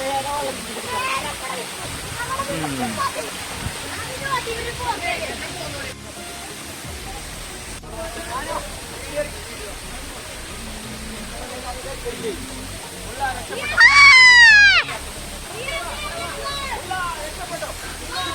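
A steady roar of falling water at Baroda waterfall in Karuvarakundu fills the scene, with people talking intermittently over it and one brief louder vocal burst.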